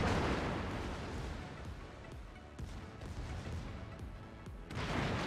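Secondary guns on the German cruiser Ägir in World of Warships fire in a steady rumbling barrage, with repeated muffled booming reports over a continuous roar of battle noise.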